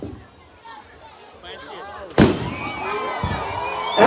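Fireworks at a New Year's show in St. Thomas: a sudden loud blast erupts after quieter crowd murmur and voices, followed by sustained crackling bursts and booms that continue to the end, with a final loud report.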